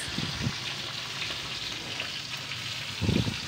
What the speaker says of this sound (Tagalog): Mainit na ang kawali at atin ang iprito ang ating luya, ang ating sariwang luya.